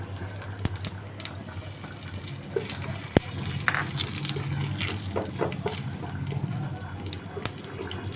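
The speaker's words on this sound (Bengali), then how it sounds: "এই যে হিং আছে, আর শুকনো লঙ্কা, তেজপাতা, জিরে একবারে দিয়ে দিচ্ছি" Asafoetida, dry red chilli, bay leaf and cumin sizzling in hot oil on a lowered flame, a continuous close hiss with scattered sharp crackles and taps, faint talk in the background.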